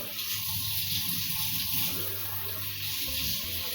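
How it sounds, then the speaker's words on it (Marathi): A kitchen faucet set to spray mode sends out a steady, close, continuous hiss of water with no pauses and no voices. "असं स्प्रे मध्ये पण पाणी येते बघा"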